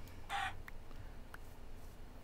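A video game chicken lets out a short cluck, then a couple of faint clicks follow over a quiet background.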